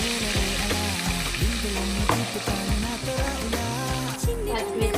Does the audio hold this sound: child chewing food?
no